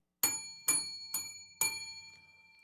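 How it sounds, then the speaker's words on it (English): A bell struck four times at an even pace, each clear ringing tone decaying before the next, fairly quiet and close with no other sound. "As I ring the bell"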